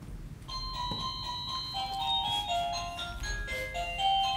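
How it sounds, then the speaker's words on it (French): An electronic house doorbell plays a bright melodic chime, a steady run of clear tones lasting several seconds over a low background hum. "sonnette de maison"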